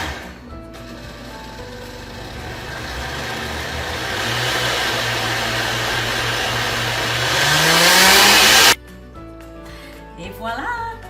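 A kitchen blender purees hot green soup with its lid held under a cloth. The loud motor drone climbs steadily in pitch as it speeds up, then cuts off abruptly, followed by brief clattering.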